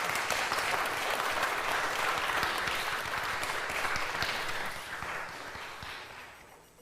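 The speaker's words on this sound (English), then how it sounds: "Let's have one more round of applause for all the wonderful performances tonight" A recital audience gives a full, dense round of applause after the evening's performances, sustained and even before tapering off toward the end.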